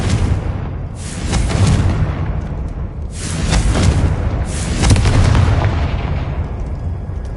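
Confringo blasting spells in Hogwarts Legacy: three booming fiery explosions spaced a couple of seconds apart, each with a rushing crackling tail that fades before the next, loud and close, without any talk.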